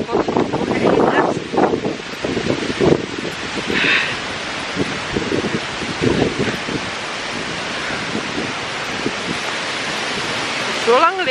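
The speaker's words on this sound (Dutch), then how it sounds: "want het waait zo hard" Strong gusts buffet the microphone outdoors in a wooded garden area, a steady broadband roar with surging peaks throughout; a voice speaks intermittently beneath the rumble.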